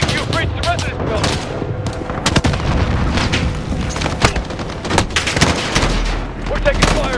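Heavy gunfire and booming blasts erupt during the US Embassy defense in Call of Duty Modern Warfare, dense bursts and rattling shots pounding close and loud while soldiers shout orders over the battle.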